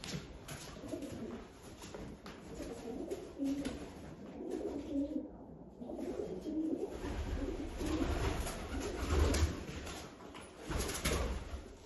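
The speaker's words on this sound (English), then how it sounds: "I'm just trying to scare the birds." Pigeons coo softly inside an abandoned synagogue amid a busy, rustling background, with a few bursts of wing flapping and movement nearby.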